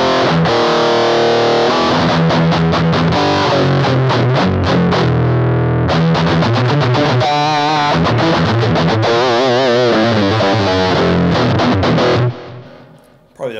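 Electric guitar through a Boss Katana amp with the Metal Zone distortion effect plays loud, heavily saturated chords and chugging riffs, with a warbling modulated passage midway before the sound drops off at the end.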